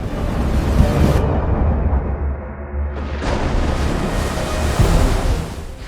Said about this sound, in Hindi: ये एक ऐसी लहर थी जैसी मैंने पहले कभी नहीं देखी थी। बिल्कुल वर्टिकल, दूसरी लहरों से लगभग 2 गुनी ऊंची।